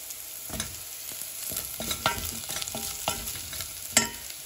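Boiled, cut potatoes go into a hot pan of batata poha, sizzling and frying with scraping stirs and soft clatter close by.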